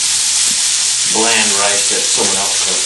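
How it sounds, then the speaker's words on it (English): Rice reheating in a frying pan, a steady close sizzle with stirring scrapes running throughout, while a person talks over it. "Keep it on the frying pan."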